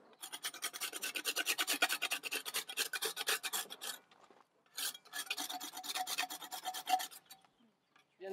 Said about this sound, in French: on vient juste râper les bords pendant que c'est encore un peu frais